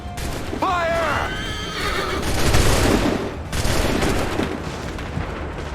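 A heavy musket volley from Assassin's Creed III cracks out as a dense burst, followed by a second, smaller blast. A horse whinnies loudly just before, and battlefield noise runs throughout.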